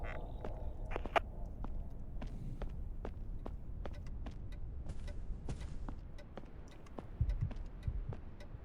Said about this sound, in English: I turned around because I heard a heartbeat.